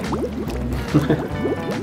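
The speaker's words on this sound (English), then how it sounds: "Look at the shower pressure." A shower runs at strong pressure in an empty apartment, making close, gurgling, splashing water noise that stays steady and fairly loud throughout the short stretch, with no voices.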